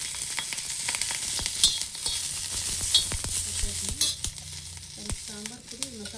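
Cumin seeds and green chilies sizzle steadily in a hot pan, with a constant crackling hiss broken by sharp clicks and scrapes of a utensil stirring close by.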